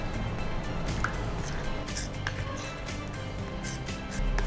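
A small amount of water trickles into a spiced batter mixture for egg bonda, a close, steady dripping and splashing that runs continuously throughout.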